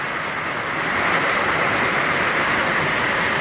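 Dense, steady broadband wash of heavy rain, loud and continuous throughout with no voices.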